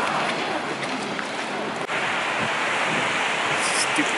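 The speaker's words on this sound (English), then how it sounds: "Stupid rain." Rain falling on a London street around Seven Dials, a dense, even hiss that holds steady and fairly loud throughout.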